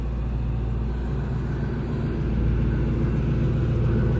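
A 1980 Pontiac Firebird's 350 cubic inch V8 idles with a steady, deep rumbling burble, close and fairly loud, with no talking over it.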